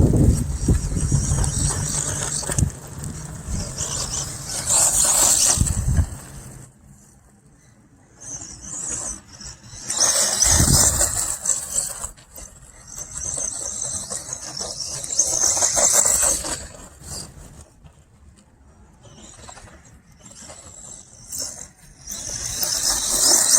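Arrma Raider XL RC car motor running on dirt, whining in loud bursts that rise and fall as the car accelerates and eases off, with quieter gaps between runs.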